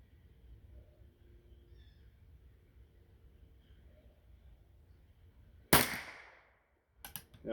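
A Remington #4 rolling block rifle in .25-10 rimfire fires one sharp, light crack outdoors, followed moments later by a second short metallic click-and-snap, after a quiet stretch of faint background.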